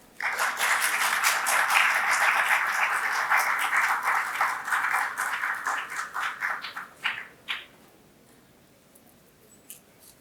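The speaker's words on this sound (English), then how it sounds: "A huge round of applause for ma'am." An audience at an orientation session applauds a faculty speaker, dense close clapping from many hands that thins into scattered claps and fades out, leaving quiet room tone.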